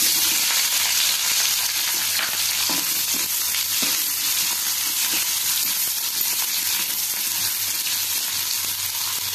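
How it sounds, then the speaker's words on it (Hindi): Chopped onion frying in hot refined oil in a wok, a loud continuous sizzle and crackle that holds steady throughout, with faint stirring scrapes and no speech. "कड़ाई रे रिफाइन तेल को गरम करिबा। एबे एथिरे कटा प्याज को दबा।"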